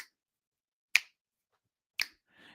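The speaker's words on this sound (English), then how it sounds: "that you snap your fingers." Three crisp finger snaps ring out alone at a steady, roughly one-second pace, close and sharp, with a faint soft rustle trailing after the last one.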